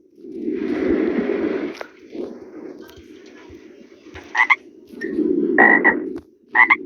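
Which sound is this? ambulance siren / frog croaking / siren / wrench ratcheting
frog croaking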